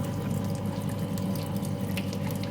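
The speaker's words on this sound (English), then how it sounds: "we'll need to open this valve a little bit till we have some water flowing out there" Water streams out through a partly opened valve on a pipe friction lab rig, a steady close hissing flow with no voices.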